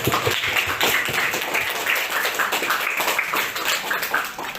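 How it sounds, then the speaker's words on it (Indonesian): A school class of eighth-grade pupils claps together on cue, a brisk burst of many hands applauding close by, steady and energetic throughout with no speech over it. "Tepuk tangan."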